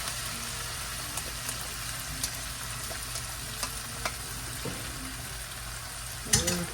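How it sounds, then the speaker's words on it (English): Filipino noodles stir-fry over high heat with brisket and vegetables in the pan, giving a steady, close sizzle with light scraping clicks and a clatter of the utensil near the end. "I got my heat on high, y'all. I'm gonna start adding my Filipino noodles in."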